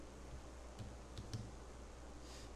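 Faint, sparse typing on a computer keyboard, a few soft key clicks over a quiet room background.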